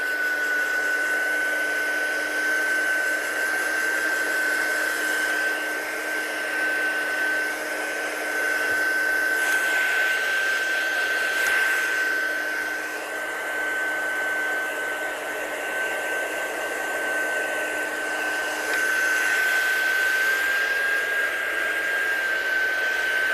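An embossing heat gun runs steadily and loudly on its own, a continuous airy blowing hiss with a thin steady whine whose volume swells and dips a little over time.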